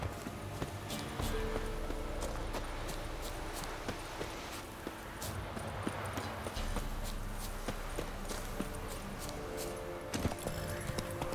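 A horse gallops with rapid, even hoofbeats in The Witcher 3, loud and close over a constant game ambience.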